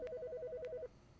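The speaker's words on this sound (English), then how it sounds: "Now I'm getting a phone call." A phone rings with an incoming call, a rapid warbling electronic trill repeating for under a second before stopping, faint beneath a noisy background.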